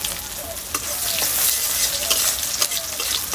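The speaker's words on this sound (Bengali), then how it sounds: "পেঁয়াজটা ভাজা হোক লাল করে।" Chopped onion and bay leaf sizzle in hot oil in a kadai, a steady close frying hiss broken by sharp scrapes and clicks of stirring.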